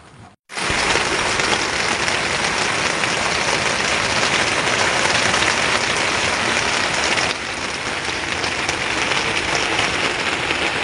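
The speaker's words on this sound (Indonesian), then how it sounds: "Hujan terus, awet." Steady, heavy rain falls without a break, likely drumming on a tarp shelter at a mountain campsite on Mount Singgalang, a dense unbroken hiss that eases slightly partway through.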